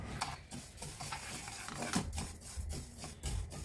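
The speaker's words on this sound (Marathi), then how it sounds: "ओल्या कपड्याने पुसलेले तांदूळ पॅन मध्ये घालून घेऊन छान खमंग भाजून घ्यायचे आहेत" Washed, cloth-dried rice dry-roasting in a pan for metkut, with soft continuous stirring scrapes and faint crackle, close and quiet.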